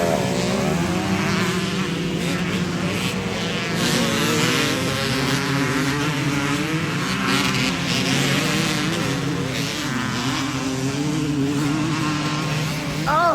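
A Honda CR 250 two-stroke motorcycle engine runs loud and close at a motocross track, a continuous buzzing, raspy drone with wavering pitch as the throttle rises and falls.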